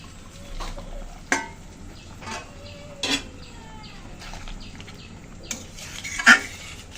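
Fried baim (eel) fish pieces tipped into a pan with turmeric and salt, then stirred, giving a few sharp clanks and scrapes of utensil on metal over a soft background hiss.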